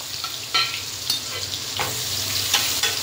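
Asafoetida and chopped onion sizzle in oil already used for frying vegetables, the base of a vegetable biryani. A steady, fairly close frying hiss continues throughout, broken by a few sharp stirring scrapes.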